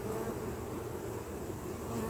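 Honeybees buzzing around an opened hive, a soft, steady drone that hangs low and even throughout, quiet and without speech.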